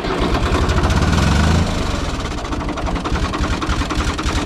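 A diesel tractor engine, just repaired after a faulty charging dynamo, turns over and settles into a steady, close, rough-pulsing run, heavier at first and then evening out, with no talk.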